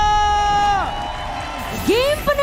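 An esports arena crowd cheers and whoops at a Mobile Legends match between EVOS Legends and Aura Fire, with high shouts rising and swooping over a steady roar of noise.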